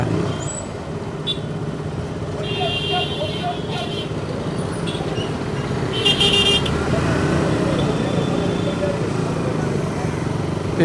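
Dense street traffic fills a busy shopping area in Sainthamaruthu, Kalmunai. Engines drone steadily, short horn toots come and go near and far, and voices are faintly mixed in.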